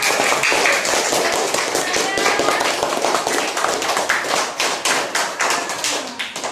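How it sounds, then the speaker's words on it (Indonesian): Classroom applause for a group of students after their toothbrushing presentation, a dense burst of many small hands clapping steadily and close, with brief voices mixed in. "beri tepuk tangan untuk kelompok"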